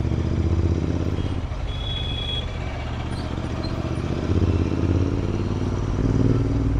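A Royal Enfield Interceptor 650 motorcycle engine and exhaust rumble nearby, idling with a few louder revs swelling in and out.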